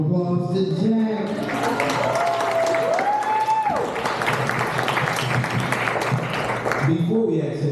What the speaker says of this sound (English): everybody give a round of applause to Jack.